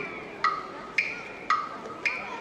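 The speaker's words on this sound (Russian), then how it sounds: "Только не это ужасное тиканье." Clock ticking used as a sound effect in an ice show, four evenly spaced crisp ticks about half a second apart, clear and fairly close over a quiet background.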